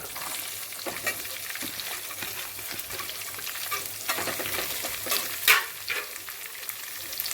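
Onions sizzling steadily in hot oil in a pan, alongside garlic and green chillies, for a ridge gourd chutney; a continuous close frying hiss with a few sharper crackles and stirring scrapes, no talking.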